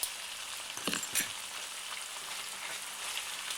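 Beef browns in a pan for a beef and ale stew. A steady close sizzle runs throughout, with a couple of brief knocks and scrapes as the pieces are turned early on.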